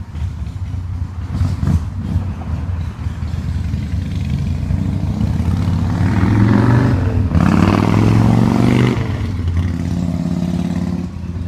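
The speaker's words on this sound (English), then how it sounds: "That's a motorcycle going by!" A passing motorcycle's engine rises from a low rumble into a louder revving swell and then fades away, with a mid-pitched drone building near the middle before dropping off.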